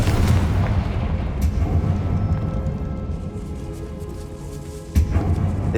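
Confringo fire spell blasts in Hogwarts Legacy, set in a decayed catacomb: a dense, continuous rumbling barrage of booming impacts with a sharp fresh blast near the end, loud and close.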